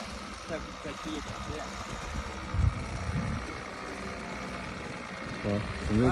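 A methanol-fuelled model airplane engine on a balsa fixed-wing plane idles a little fast with a low, steady buzzing hum, mostly under people talking nearby.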